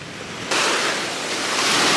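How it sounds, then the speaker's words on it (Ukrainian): Sea waves washing onto an Italian beach lined with loungers, a steady broad roar of surf that swells louder partway through, close and continuous with wind noise and no voices. "Отакий море, пляж."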